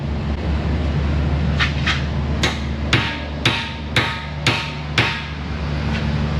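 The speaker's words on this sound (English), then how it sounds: "Hit it with a hammer." A hammer hits a frozen tie rod end on a car in a repair shop, about eight sharp metallic taps spaced roughly half a second apart over a steady droning hum of shop noise.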